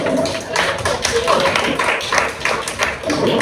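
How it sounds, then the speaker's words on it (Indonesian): A group of students clap their hands together in a classroom, a dense, steady patter of many hands that keeps going for a few seconds at a moderately close distance. "Oke, tepuk tangan."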